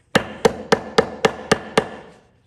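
A hammer drives tacks through the layered insole of a custom lineman boot in seven sharp, evenly spaced taps, close and ringing, fading at the end with no talk.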